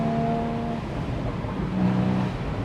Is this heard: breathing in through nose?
no